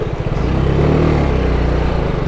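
A motorcycle pushes half-submerged through a fast, dark river in Shimshal Valley, northern Pakistan; its engine drones steadily and close beneath a loud wash of rushing water, with no talking.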